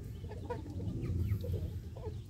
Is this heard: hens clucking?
yes